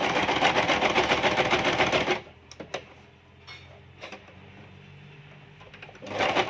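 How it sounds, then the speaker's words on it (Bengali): A sewing machine stitches a cloth mask, running loud and fast for about two seconds before stopping, followed by quiet clicks and handling, then the motor starts running again near the end. "আমি সেলাইটা কেটে আমি অপর সাইড থেকে আবার সেলাইটা স্টার্ট করব।"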